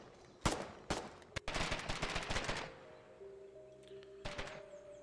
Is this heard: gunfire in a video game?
yes